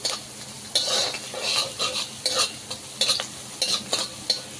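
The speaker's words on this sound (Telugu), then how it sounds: "ఇలా వెల్లిపాయ, పచ్చిమిర్చి వేసుకొని ఫ్రై చేసుకోవాలి." Garlic and green chillies fry lightly in oil while a utensil stirs them, giving a soft sizzle broken by repeated scraping strokes in an irregular rhythm, close and fairly quiet, with no voices.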